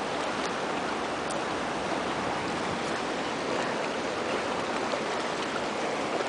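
Ocean surf and swell break somewhere off in the distance, making a steady, even wash of roaring water noise with no voices.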